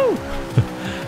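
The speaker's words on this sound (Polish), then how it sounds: "samochód sam z siebie driftuje tutaj" Honda S2000 drifting in the Forza Horizon racing game on Xbox One, engine note sweeping down with brief tire squeal and skid noise, heard close and loud.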